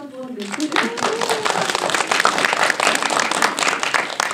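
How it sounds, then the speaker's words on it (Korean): An audience at a Korean film screening with a post-show talk bursts into steady, dense clapping after a brief voice at the start, and the applause continues to the end. "박수 한번 내주세요"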